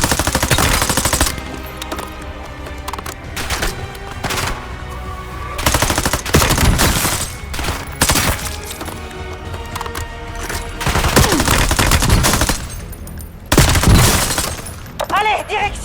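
Action war film battle scene with repeated machine gun bursts and single gunshots, loud and close, mixed with shattering debris and shouted voices between volleys.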